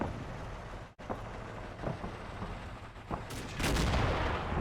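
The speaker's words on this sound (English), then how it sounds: "You'll see our 3-inch mortar is continuing to worry that back line there." Mortar and small-arms gunfire in the WWII tactics game Combat Mission: Battle for Normandy, a 3-inch mortar working on an enemy line: scattered shots and muffled booms at middle distance, building to a louder, denser rumble of fire near the end.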